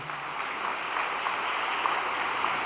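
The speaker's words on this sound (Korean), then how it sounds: "우리 이 가정을 위해서 박수 한번 보내주시기 바랍니다." Steady, even applause from a church congregation during an all-night prayer service, filling the room at a moderate distance with no voices over it.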